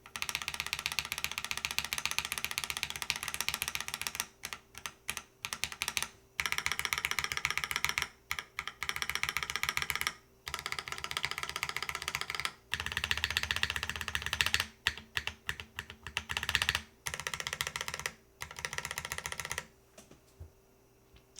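Rapid bursts of keystrokes on a KBD8x MKIII mechanical keyboard, clacking busily in quick runs with short pauses between flurries, close and fairly loud with no voices.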